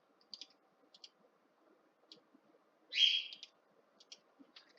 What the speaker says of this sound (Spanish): pues vemos que esto es un Pipistrellus